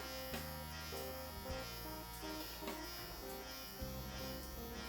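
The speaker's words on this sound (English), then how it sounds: "I usually comb the hair in the direction it's going, clipper upside down, and I just remove any little bits of weight" An electric hair clipper, held upside down, buzzes steadily while trimming and removing bits of weight from combed hair on a slick-back cut, a close, continuous hum with small pitch shifts as it moves.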